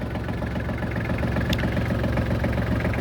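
A Japanese mini tractor engine idling steadily nearby, a loud even chugging rumble with a regular pulse and no talk.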